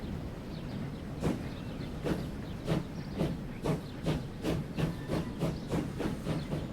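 An express train departs in the Transport Fever video game on the Chiltern Main Line, with a steady run of evenly spaced rhythmic chuffs or clacks over a constant hiss, gradually quickening.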